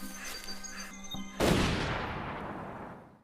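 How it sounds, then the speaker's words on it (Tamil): Gunfire sound effect in a horror story narration: a sharp loud blast bursts out and rings into a long decaying rumble after a quieter tonal stretch. "நமக்கு அடுத்ததா என்ன சத்தம் கேக்குதுன்னா வெறும் கன் ஃபயர் மட்டும் தான் கேக்குது"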